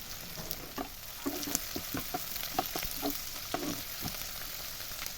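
Sliced onion and chopped garlic fry in oil in a pan while cooking prawns with kochur loti, a quiet steady sizzle broken by small irregular pops and stirring scrapes, with no talking.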